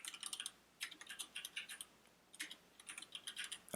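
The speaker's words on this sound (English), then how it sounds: "And I type my heading." Keys clatter in quick bursts on a computer keyboard while a report heading is typed, close and clear, with short pauses between the runs of keystrokes and no talking.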